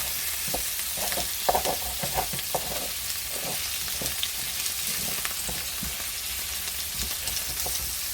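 Garlic and mixed vegetables sizzle and fry steadily in a pan, with a scraping spatula stirring through in repeated light strokes close by.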